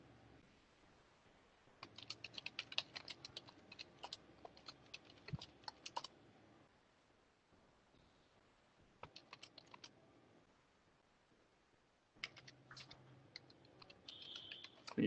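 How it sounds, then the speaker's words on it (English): Someone types on a computer keyboard during a bank branch audit workshop. Quiet bursts of rapid key clicks come in several separate runs, with pauses of near silence between them. "You can type anything. There's not necessary that you have to type what I'm typing."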